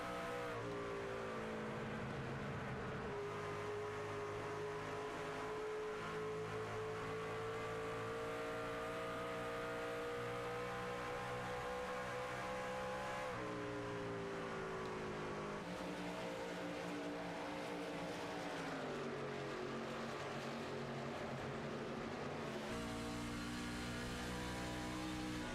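Onboard a race truck during a Truck Series race at The Rock, chasing the No. 7: a loud, sustained high-revving engine drone whose pitch climbs and drops with throttle and gear changes, close and continuous with no voices.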